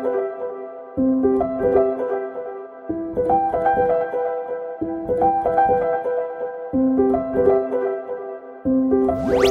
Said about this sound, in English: And this is my custom alarm sound.